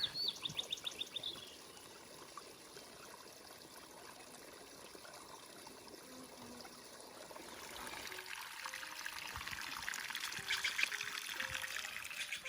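Faint, steady trickle of a small creek running over rocks at a hiking trail crossing, with a few distant bird calls, no voices.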